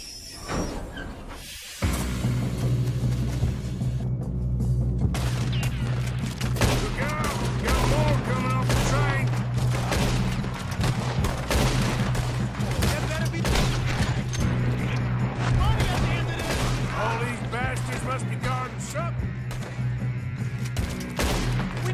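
Dense bursts of gunfire and rapid shots from a Red Dead Redemption 2 train robbery fill the scene, loud and sustained over a steady low rumble, with voices shouting now and then.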